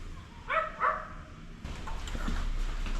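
A dog inside an apartment barks a couple of sharp times, then a steadier din of barking and yipping from several dogs follows, moderately loud in a cramped indoor space.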